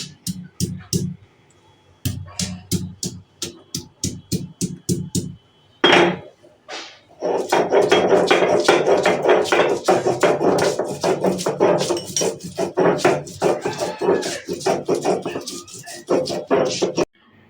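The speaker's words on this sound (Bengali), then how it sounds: "এখন আমি আদাটুকু বেটে নিচ্ছি শিলনোড়ায়" Ginger pounded and ground on a traditional shil-nora grinding stone while cooking a moong dal with bitter gourd and bottle gourd: sharp knocking strikes in bursts, then dense continuous scraping and thudding, close and loud, with no speech.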